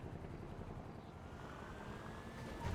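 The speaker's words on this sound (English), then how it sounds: "Why do I hear a helicopter?" Inside the GTA roleplay world, a helicopter drones faintly overhead as a steady, distant whir that lingers under ambient game noise without fading.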